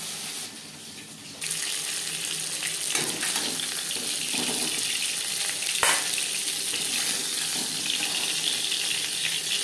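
Fish head frying in hot oil in a pan for a fish curry, giving a steady broadband sizzle that holds for the whole stretch, with a quieter start and one sharp spatter partway through, no voices.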